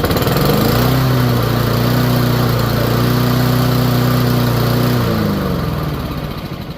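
A Honda HRX217 lawn mower engine that runs poorly revs high in a loud, steady drone with a strong humming tone, then winds down slightly near the end.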